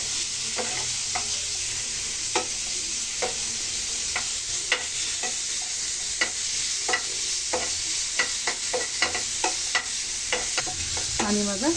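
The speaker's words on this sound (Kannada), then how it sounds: "ಒಂದು ಸ್ವಲ್ಪ ಫ್ಲೇಮನ್ನು ದೊಡ್ಡ ಮಾಡಿಕೊಂಡು ಫ್ರೈ ಮಾಡ್ತಾಯಿದ್ದೀನಿ" Eggs fry in oil over a high flame for egg biryani, giving a steady, close sizzle broken by a run of sharp spatula taps and scrapes against the pan, ending in a quick sweeping scrape.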